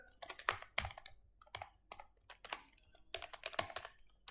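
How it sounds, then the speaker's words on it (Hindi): Someone types on a computer keyboard in bursts of crisp, close key clicks with short pauses between runs, quiet and alone without any talking. "फर्स्ट मैट्रिक्स का इनपुट्स को हमें यहाँ पे टाइप करना है"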